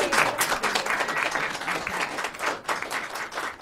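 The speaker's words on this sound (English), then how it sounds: "they need a round of applause" An audience at a community access television station's annual event applauds, a lively, fairly close round of clapping that swells and dips in uneven waves for a few seconds, with no voices over it.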